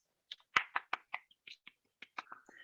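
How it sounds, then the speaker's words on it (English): A small audience at a Toastmasters club event claps for a keynote speaker, a sparse, uneven scatter of close hand claps that comes in two short bursts with no voices. "let's give her a big round of applause"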